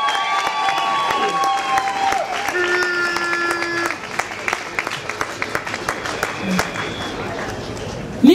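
Applause and crowd noise at a TTIP protest rally in Hannover greeting a speaker. Clapping from the crowd runs dense and steady at first, then thins into scattered claps while a voice talks through it.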